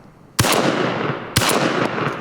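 Two loud shotgun blasts fired at a hovering drone outdoors, each a sharp crack with a long rolling echo, spaced about a second apart with no voices.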